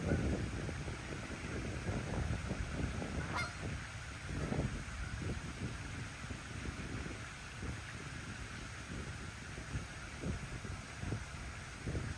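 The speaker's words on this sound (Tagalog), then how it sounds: "Grabe wild yan dito mga pato na yan" A flock of wild ducks in a park honking and quacking repeatedly, steady chatter throughout with wind noise in the background.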